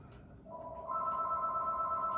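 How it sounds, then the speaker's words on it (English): A telephone rings indoors at a community gathering, a steady electronic tone starting about halfway through and continuing to the end, moderately loud over low room noise. "Phone's ringing."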